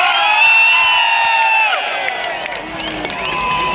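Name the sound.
crowd cheering and applauding for Salman Khan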